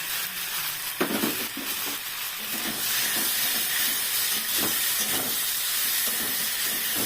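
Dried shrimp with pre-fried vegetables sizzling and hissing in a hot pan, a steady loud frying noise with occasional stirring scrapes and no talking.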